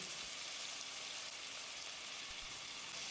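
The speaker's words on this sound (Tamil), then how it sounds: "தக்காளியை நல்லா மசிகிற அளவுக்கு வதக்கிடலாம்" Chopped tomatoes with onions, salt and turmeric sizzle softly in a pan, a faint, steady frying hiss with no voices.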